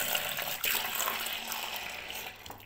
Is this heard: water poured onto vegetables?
yes